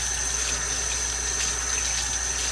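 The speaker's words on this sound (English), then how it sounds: "Now I'm going to rinse off my hands really quick" Steady, close rush of tap water splashing into a sink as hands are rinsed, continuous and unbroken with no talking.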